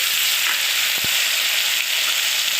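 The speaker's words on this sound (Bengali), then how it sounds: "আবার একটু তেল দিয়েছি, সর্ষের তেল। এবার কালো জিরে দিয়ে দেব" Nigella seeds frying in hot mustard oil, giving a dense, continuous close sizzle with a brief clatter in the middle, with no talk.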